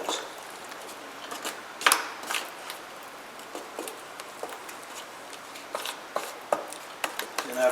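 Small batch of fast-drying floor patch compound mixed by hand before laying vinyl tile over old tile: irregular scraping and tapping of a tool against a container, close and moderately quiet, with some talking.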